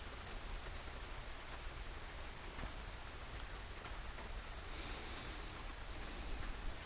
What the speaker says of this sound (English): As soon as I start, the rain starts falling.